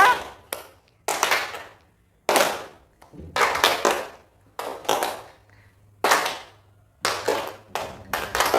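A group of teachers claps in short, energetic bursts, about nine rounds separated by brief silences.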